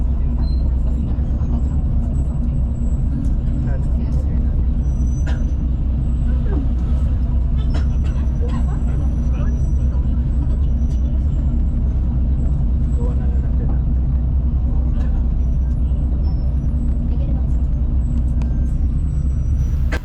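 A MyBus city bus crawls through heavy Cebu city traffic, its engine rumbling low and steady from inside the cabin, with faint hiss and clatter from the road and a voice talking over it.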